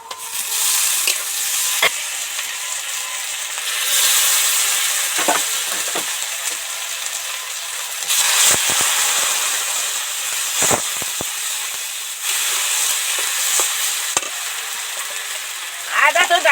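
Mung dal frying in hot oil with ginger paste added, a steady loud sizzle and hiss running throughout, broken by occasional scraping stirs of the spoon in the pan.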